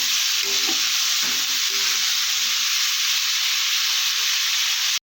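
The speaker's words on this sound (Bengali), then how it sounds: "একটু লাল লাল করে ভেজে নেব।" Pieces of young jackfruit with salt and turmeric fry loudly in hot oil, a dense continuous sizzle with a few scraping stirs early on, close and without talk.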